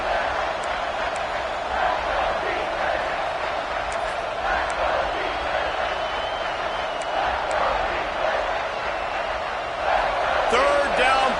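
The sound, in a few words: stadium crowd roaring in a college football video game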